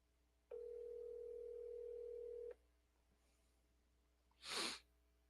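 A steady telephone dial tone sounds for about two seconds from a phone placed on a call back, then stops, followed by quiet and a brief breathy burst like a sneeze or snort.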